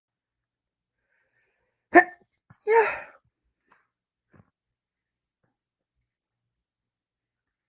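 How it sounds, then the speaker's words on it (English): A single sharp human sneeze, close and fairly loud, with a quick intake just before it and near silence around it, followed by a brief spoken word. "I'm about to sneeze."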